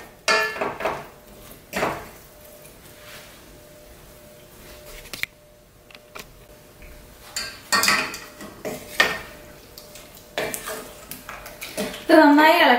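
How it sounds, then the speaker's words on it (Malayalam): Ground coconut paste being stirred into cooked yam in a pot, with irregular clinks and scrapes of a spoon against metal, some sharp knocks, and quieter gaps between bursts of stirring, close up. "നമുക്ക് ഇതിലോട്ട് നമ്മുടെ അരപ്പ് ചേർത്ത് കൊടുക്കാം. നന്നായി ഇളക്കി കൊടുക്കാം."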